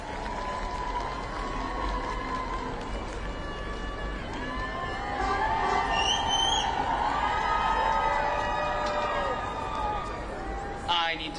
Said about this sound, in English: Let's give them a round of applause while they're getting set up.